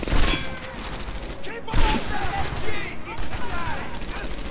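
Continuous rapid automatic gunfire in the World War II shooter Medal of Honor Airborne rattles loudly throughout, with shots cracking close in dense bursts and a voice talking over the shooting.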